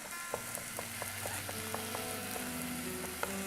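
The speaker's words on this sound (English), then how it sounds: "you just want to saute your onion and peppers for about 2 minutes" Onion and peppers sauté in a pan for Tex-Mex cooking, a steady soft sizzle with small crackles and pops and faint stirring, close and alone.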